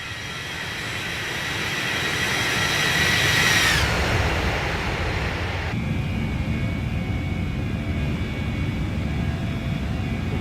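An MD80 airliner roars past in a flight simulator game, its engine whine rising to a loud peak, then falling in pitch as it passes and fading into a steady rumble.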